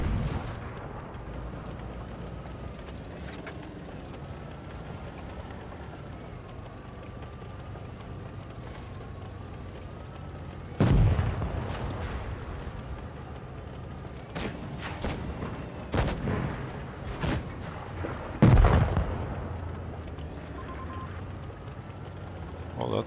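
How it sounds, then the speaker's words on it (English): Missiles and explosions in a tank video game, with a low rumbling background broken by several sharp booms and impacts, two of them heavier, spread over the second half. "Missiles flying everywhere."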